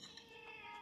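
A cat in a small home in the Dutch village of Giethoorn gives a short, faint meow, brief and muffled against steady background hiss.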